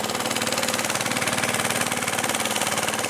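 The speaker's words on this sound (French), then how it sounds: "avec un péké-péké, c'est moins dangereux qu'avec un moteur à hélice" Peke-peke longtail boat motor running on a river, a steady rapid chugging putter that stays close and even throughout with no voices.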